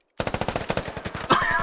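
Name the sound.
gunfire from a video game shootout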